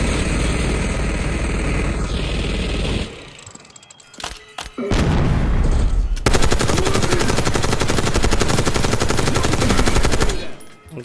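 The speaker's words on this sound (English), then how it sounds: "Minigun" Minigun in Call of Duty: Black Ops 6 fires in a loud, sustained roaring burst, pauses briefly, then spins back up into a long continuous rattling stream that cuts off near the end.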